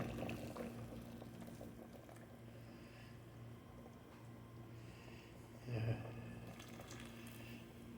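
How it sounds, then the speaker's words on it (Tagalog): Boiled water poured into a cooking pot for chicken tinola, a steady low liquid rush over a kitchen hum that swells briefly near the end. "Lalagyan na natin ng pinakulong tubig para madaling kumulo"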